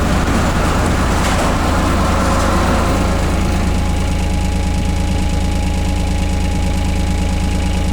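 Inside a garage, a digger's diesel engine runs loud and close, a steady heavy rumble with a knocking idle throb that holds throughout.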